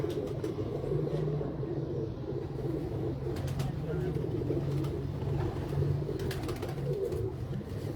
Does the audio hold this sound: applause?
no